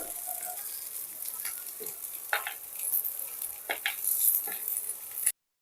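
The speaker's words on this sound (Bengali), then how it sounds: "ফুলকপিগুলো আমার লাল করে ভাজা হয়ে গেছে" Cauliflower pieces frying in a pan, a soft steady sizzle with occasional scraping stir strokes and clinks, fairly quiet and close with no voices.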